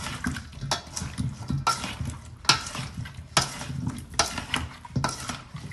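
A spoon stirs tomato paste, hot water and oil in a pot, giving repeated scraping and clinking strokes in an uneven rhythm, close and moderately loud.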